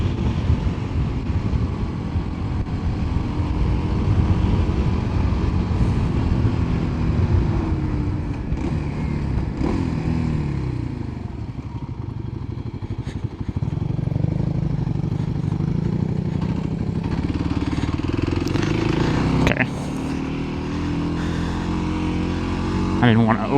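A Kawasaki KLX300 dirt bike rides San Diego backroads in second gear, its engine droning and rising and falling with throttle under steady wind buffeting, while the rider talks over it.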